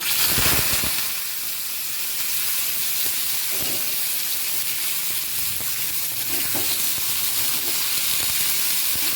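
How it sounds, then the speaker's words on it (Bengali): Boiled, drained figs tipped into hot oil with black cumin seeds in a wok sizzle loudly, a steady bright frying hiss that holds strong throughout with occasional stirring clatter and no talk. "এবার ডুমুরটা সেদ্ধ করার পর জল ঝরিয়ে রেখেছিলাম ছাঁকনিতে, এবার কড়াইয়ের মধ্যে দিয়ে দিচ্ছি"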